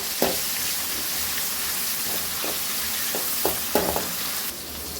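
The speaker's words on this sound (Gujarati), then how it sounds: "પછી આપણે ટમેટા ઉમેરી દઈશું અને મરચાં પણ સાથે જ ઉમેરી દઈશું અને તરત આપણે સાતળી લેવાની છે" Tomatoes and chilies sauté in a hot pan with cumin and curry leaves, a steady sizzle and hiss running throughout, with a few soft scrapes and knocks of a stirring spoon close by.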